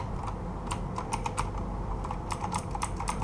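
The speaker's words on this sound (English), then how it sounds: "my keyboard is really clicky right now, that's because I have a mechanical one" Fingers type on a clicky mechanical keyboard, with bursts of crisp key clacks over a low steady background hum.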